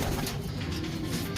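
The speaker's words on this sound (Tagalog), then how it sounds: "So kukunin na po natin yung ibon natin." Racing pigeon cooing softly in a loft while birds are basketed for a derby race, low murmuring coos under a steady background hum.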